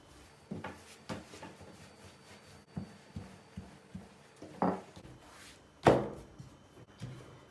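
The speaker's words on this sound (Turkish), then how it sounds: "Yavaş yavaş bastırarak merdane ile fırın tepsinin ölçülerine getireceğiz." A wooden rolling pin presses dough toward the size of a baking tray, producing a series of soft rhythmic thumps and rolling rubs on a board, with a couple of louder knocks near the end.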